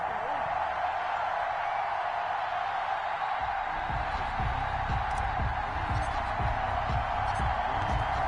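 A stadium crowd in a Madden football game between the Green Bay Packers and Philadelphia Eagles at Lincoln Financial Field roars in a steady wash, heard under an announcer's commentary.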